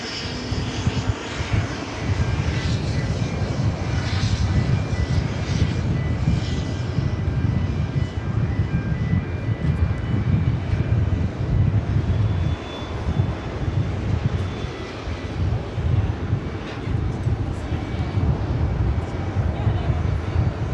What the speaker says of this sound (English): It's an Alice Air 777 freighter.